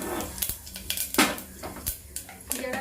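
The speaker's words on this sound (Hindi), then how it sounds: "तो इसमें ज़रा सा मैं जीरा डाल दूँगी" Cumin seeds go into hot ghee in a heated pressure cooker for rice tempering, giving a few short clinks and scrapes of metal utensils against the pot, close and sharp, with no talking.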